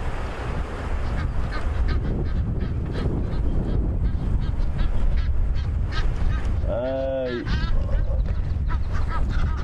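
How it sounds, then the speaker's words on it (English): Egyptian geese honk loudly in a noisy burst partway through, over a constant rumble of background noise and distant voices, on a safari drive. "The Egyptian geese, you can hear, have been making an absolute racket."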